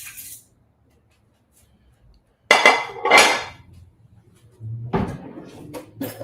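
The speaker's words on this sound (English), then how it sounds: "Let me get out a plate. All right, and we'll grab a knife." A plate and a knife are taken out in a kitchen, with sharp ceramic and metal clinks and clatters in two bursts separated by quiet, close and fairly loud, including a cupboard or drawer knock.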